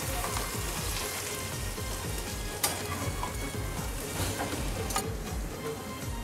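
Dried bombil fish keema sautéing in masala, a steady dense sizzle and crackle of frying with soft stirring scrapes and a couple of sharper clicks, close and continuous with no voices.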